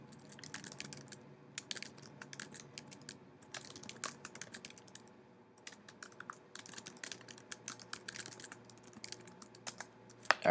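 Typing a database query on a computer keyboard for Oracle 12c, quick irregular bursts of close, soft key clicks with short pauses between runs.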